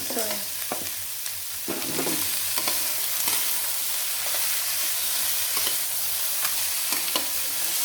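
Mixed vegetables for biryani (carrot, beans, broccoli, potato, cauliflower and tomatoes) frying in a pan, a steady loud sizzle broken by repeated scrapes and clatters of stirring.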